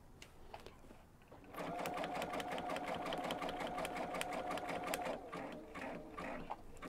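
Embroidery machine stitching plush Minky fabric, a steady close mechanical whir with rapid rhythmic needle ticks that runs for a few seconds then slows and stops, faint room noise around it.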